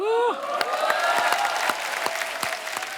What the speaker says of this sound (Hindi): आपकी ये तालियां, ये सीटियां हमारे लिए ऑक्सीजन का काम करती हैं